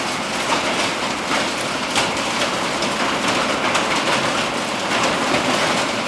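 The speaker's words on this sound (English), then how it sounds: "Sounds like pretty big hail." Large hail pounding down in a storm, a dense, continuous loud roar of hard impacts with no gaps.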